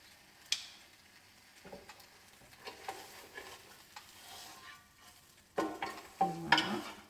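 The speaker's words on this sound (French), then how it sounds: "la viande commence à dorer sur le dessus" Filet mignon cooking without fat on an All-Clad grill gives faint sizzling and scattered ticks and scrapes, with louder clatter near the end.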